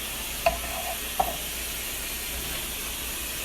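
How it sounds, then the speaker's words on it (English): Tomato paste being stirred in a pan, with a soft continuous sizzle and two short scraping clacks of the utensil against the pan, close and alone with no voices. "Can't let it stick, because if it sticks, it burns to the side of the pan. So you got to keep stirring it."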